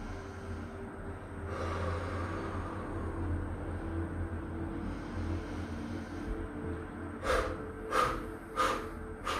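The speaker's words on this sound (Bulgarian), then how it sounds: "изпразнили сме целия въздух и вдишваме през носа при изправяне" Mukha Bhastrika pranayama breathing: a continuous breathy rush in a room, then four sharp, forceful exhales through the mouth in quick succession near the end, each followed by a nasal inhale.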